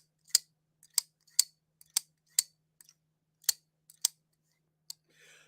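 Elementum button-lock folding knife snapped open and closed, crisp sharp clicks about ten times in an uneven rhythm, close and clear in a quiet room, with a brief soft rustle at the end.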